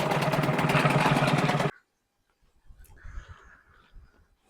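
A HANGKAI 6.0 outboard motor drones loudly and steadily nearby for under two seconds, then cuts off abruptly, leaving faint scattered sounds behind.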